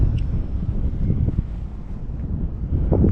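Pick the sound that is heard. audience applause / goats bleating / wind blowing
wind blowing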